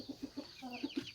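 Quiet, rhythmic clucks from silver hens, about six short pulses evenly spaced, with faint bird chatter in the background.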